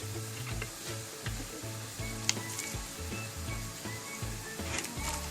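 Fellah köfte, bulgur dumplings, stirred in a pot as they cook, giving a steady bubbling simmer with soft, repeated scraping and knocking of the spoon against the pot throughout.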